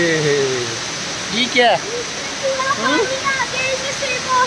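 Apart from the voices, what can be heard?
loud rushing water in Dubai Mall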